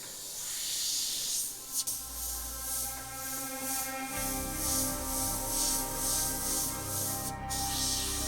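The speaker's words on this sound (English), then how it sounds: "I'm going to put some paint in my airbrush and just do some quick demos" An airbrush sprays paint in a continuous soft, close hiss that rises and falls slightly in strength, with a faint mechanical hum underneath and one brief click.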